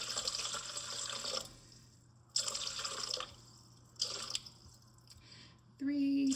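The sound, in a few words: pouring water into a mixing bowl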